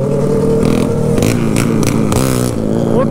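A motorcycle with a Twister engine and two exhaust pipes revs in short, loud bursts close by, the pitch rising and falling over a rough, rattling rumble.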